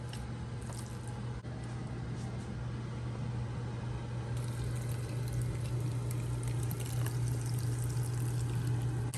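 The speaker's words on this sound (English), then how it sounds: "Now we're just gonna go ahead and put everything inside the Instant Pot." Meat and sautéed ingredients being poured into an Instant Pot make a steady wet, sloshing pour with squishy splatter over a constant low hum.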